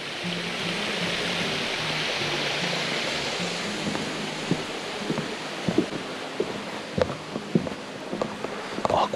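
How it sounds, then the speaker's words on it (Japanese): Water rushes steadily in a loud, continuous broadband roar like a small waterfall near a campsite in Hachinohe, Aomori, with scattered crunching footsteps becoming noticeable toward the end. "ああ、すごい、滝みたいになってる。"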